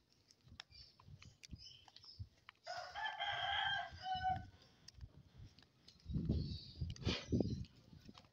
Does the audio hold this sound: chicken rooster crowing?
yes